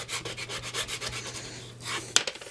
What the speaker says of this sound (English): I'll give it a little rub with my bone folder to make sure